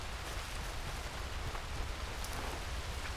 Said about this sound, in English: this is the kind of day that I would love to just sit on a porch like this and watch it rain